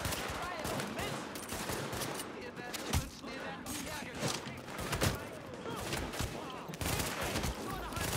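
Dense, continuous gunfire from The Division fills the scene, bursts of automatic fire and single shots overlapping with a few sharper reports, while voices talk over the shooting.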